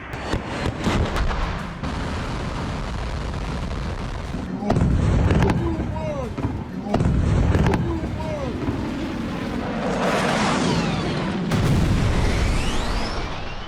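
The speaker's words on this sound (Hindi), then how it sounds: "यह सिर्फ एक मिसाइल धमाका नहीं है" Heavy explosions boom in several loud bursts with rumbling aftershocks and crackling debris, while voices shout in the background.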